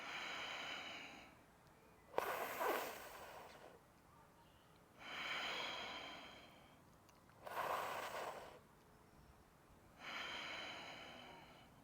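During a yoga breathing exercise, slow, paced breaths pass close to the microphone, each rushing exhale separated by quiet pauses and soft inhales, fairly faint, in an otherwise still room with no speech.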